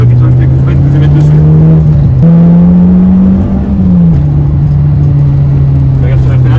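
Renault Clio 2 RS engine and exhaust while driving, a loud steady low drone with a brief dip and shift as revs change, someone talking over it.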